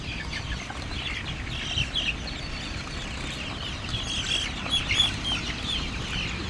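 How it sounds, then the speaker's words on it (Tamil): Giriraja chickens cluck softly amid a noisy farmyard background, with scattered faint calls and a rustle of activity throughout. "இது கிரிராஜா போண்டா கோழிங்களா"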